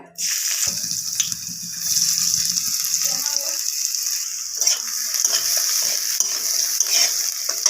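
Chopped garlic hits a little oil in a wok, and a loud, continuous hiss sets in almost at once and holds steady, with a few faint knocks underneath.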